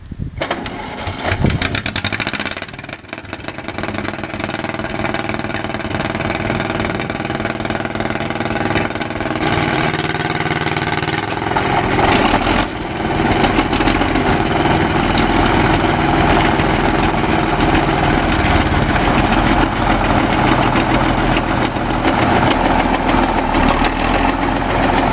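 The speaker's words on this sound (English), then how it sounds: "1949 bulldozer, initiates its first start after 5 years at a vintage machinery event. This 148 horsepower diesel with a D342 engine uses a pony motor for ignition." A 1949 bulldozer with a 148 hp D342 diesel, started with a pony motor at a vintage machinery event after five years idle. A loud, continuous engine drone settles into a steady rumbling run.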